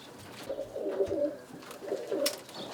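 Roller pigeons coo in soft repeated bursts near their nest boxes, two low rolling phrases close by with faint background noise and no talking.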